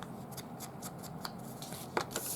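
Scissors trimming paper for an envelope pocket, a series of quiet crisp snips in an uneven rhythm with a couple of sharper cuts near the end, close and faint, no voices.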